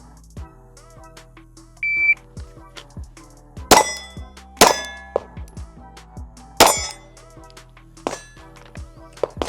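Pistol shots striking steel targets at 10 yards on a shooting range, a few sharp loud metallic clangs spaced irregularly over quieter background clinks and a brief beep.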